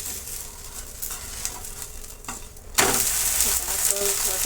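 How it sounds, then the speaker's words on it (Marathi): A bhagar and sabudana fasting dosa on a hot pan: quiet stirring and light scraping, then a sudden loud, steady sizzle bursts up as it is flipped and keeps hissing close by. "आता आपण डोसा पलटी देखील करून घेणार आहोत"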